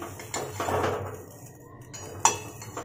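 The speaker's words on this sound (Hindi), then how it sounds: "इस तरह से हम हमारा दूसरा बर्तन इस पे रखेंगे" A clean metal pot is set down on top of a pot of water heating on a gas flame, giving a couple of light metallic clinks and knocks over a soft background hiss.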